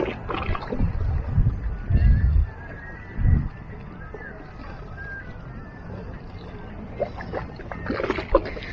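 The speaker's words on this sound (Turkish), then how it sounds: "Bakın tekne turları başlamış." Tour boats on the Red Sea at Hurghada, heard as low, uneven engine and hull rumbles in short bursts over gusty wind noise on the microphone.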